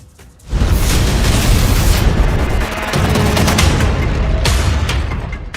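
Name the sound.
bombing explosions in news footage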